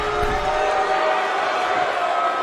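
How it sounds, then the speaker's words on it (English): A steady, dense roar of a disapproving arena crowd in the wrestling video game WWE 2K22 fills the whole stretch at an even, loud level, reacting against a woman wrestler during a match. "The crowd letting her know that they don't appreciate what she's doing right now."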